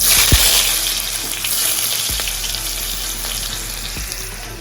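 Mustard seeds and chopped small onions sizzle in hot oil for a Kerala-style tapioca dish, a loud, close, continuous frying hiss with occasional sharp pops and stirring knocks, no voices.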